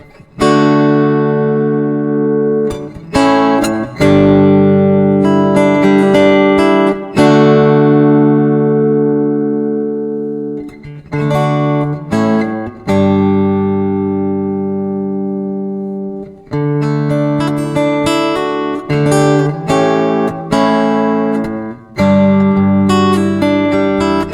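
A Donner Hush-I Pro acoustic-electric travel guitar plays strummed chords and ringing single notes through a compression effect, loud and sustained with even, evened-out decays and brief gaps between phrases; no talking.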